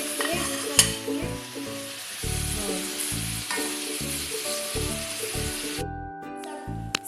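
Chicken stir-fries in a pan for Filipino tinola with sayote, giving a continuous close sizzle, steady in level, with a few sharp clatters near the end.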